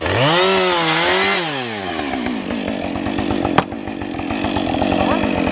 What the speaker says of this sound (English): Luckily he's got a chainsaw and he's pretty handy with it, so he's going to let loose, start cutting all that up